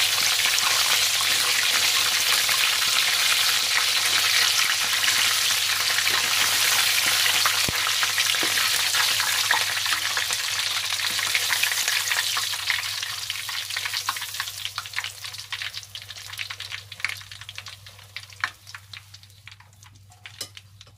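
Chicken wings deep frying for a buffalo wings recipe, a loud, dense crackling sizzle of hot oil that holds steady, then thins out and grows quieter with scattered pops toward the end.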